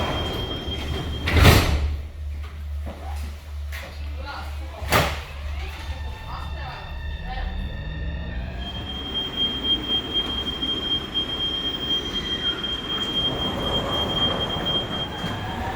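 Copenhagen metro train with two sharp door-closing thuds, followed by a rising electric whine and rumble as the train departs, with wheel squeal and faint background voices.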